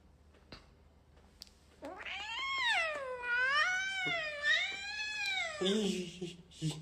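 A cat meows in one long drawn-out wavering call that rises and falls for several seconds, close and clear against a quiet room background, in the middle of a casual live stream.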